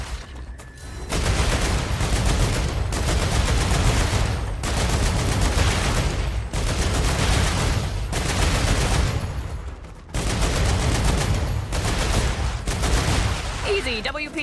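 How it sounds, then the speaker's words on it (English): Sustained bursts of light machine gun fire in the sci-fi factory base-building game StarRupture, loud and continuous across several long volleys separated by brief gaps. "It's technically a light machine gun"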